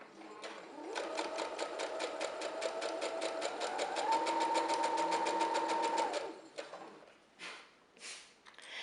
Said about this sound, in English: And now I'm going to go forward and sew all the way down.